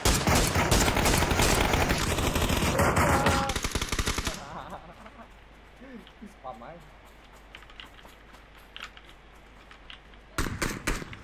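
Dense bursts of automatic gunfire from PUBG on the Sanhok map crackle loudly for the first few seconds, then drop to quieter, distant shots and ambient game noise before another loud burst near the end.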